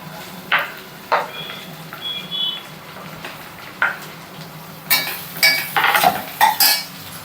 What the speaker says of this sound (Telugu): బీరకాయ ముక్కలు వేసిన తర్వాత ఒకసారి కలుపుకోవాలి